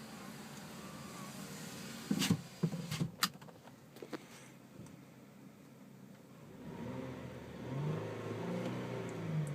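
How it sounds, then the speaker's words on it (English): A 2007 Lincoln MKX front-wheel-drive engine and exhaust note heard from inside the cabin with the doors closed. Muffled, low and quiet, with a few sharp clicks and knocks partway through, then a swelling drone as the revs rise. "You can actually hear somewhat the engine note and the exhaust note."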